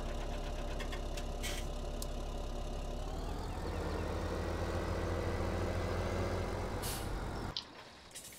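A tractor engine runs steadily in a farming video game, a loud low drone with a slight shift in pitch partway through, then cuts off abruptly near the end.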